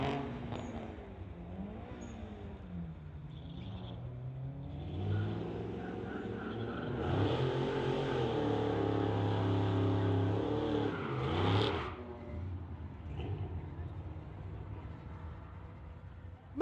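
A 2021 BMW and a 1994 Toyota run a street drag race at night, engines revving and swelling into a loud, rumbling roar mid-run before easing back to a distant drone.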